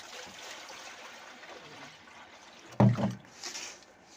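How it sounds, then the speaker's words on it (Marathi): Finger millet (nagli) being washed by hand in water, with faint swishing and trickling that builds into a louder slosh and splash partway through, then quieter dripping. "मग असं करून करून करून नागेला धुवावं लागतो"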